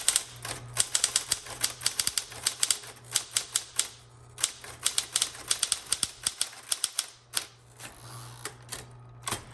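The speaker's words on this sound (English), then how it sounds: "This one, when you're typing, this one is a little bit louder." A 1960s Smith Corona Electra 110 electric typewriter types in fast, uneven bursts of sharp clacks over a faint motor hum, close and loud, with brief pauses between runs.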